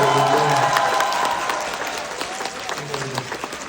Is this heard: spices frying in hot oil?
no